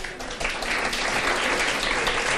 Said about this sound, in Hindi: हमारे जो ऑडियंस है ये जरा तालियां बजा के बताइए